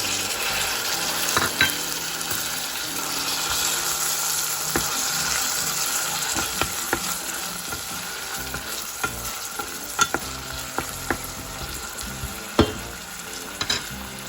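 Ginger and garlic fry in oil in a pan for a spicy cassava and egg curry, with a steady close sizzle throughout and scattered sharp clicks and scrapes of stirring.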